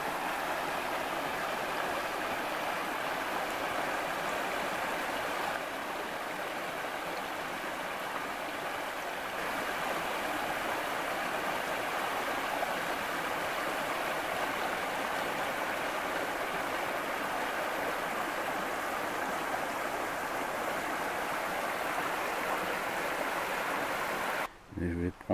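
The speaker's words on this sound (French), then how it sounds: "ce petit torrent qui passe sous le pont" A small mountain stream rushes steadily, a constant broadband roar of flowing water nearby that cuts off abruptly at the end.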